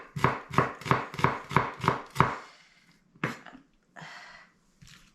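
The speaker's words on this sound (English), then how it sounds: "So we cut 1 onions to have this perfume." A knife chops through an onion on a cutting board in a quick run of about seven sharp, evenly spaced thumps, then a few slower, scattered cuts and a soft scraping sound.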